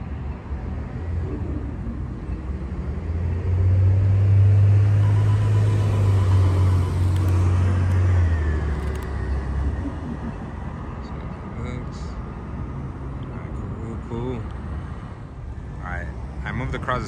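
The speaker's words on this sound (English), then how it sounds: "I got a bus coming up, so I'm hoping this is a shot." A city bus on a night street rumbles past, its low engine drone swelling loud for several seconds and then fading into steady surrounding traffic noise.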